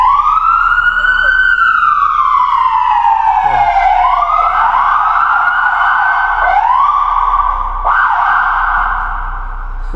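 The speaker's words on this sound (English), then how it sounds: "So I'm gonna go ahead and turn on the siren here." A loud, close police car siren wails in long sweeping tones, then shifts into quicker rising yelps, continuing without pause.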